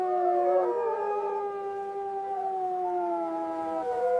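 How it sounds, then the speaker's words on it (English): White wolves howl in a cold valley, several overlapping long wavering howls rising and falling together, loud and fairly close, with no speech. "The white wolves are howling in the cold valley."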